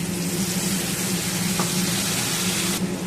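Ground spice paste hitting potatoes and bori frying in oil for a fish curry, a loud, dense sizzle that runs steadily from start to end.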